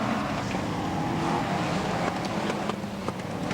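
BriSCA Formula 1 stock cars race at Swaffham in a 1994 Grand Prix, a steady loud roar of engines running throughout with no break, close and dense, and nobody talking.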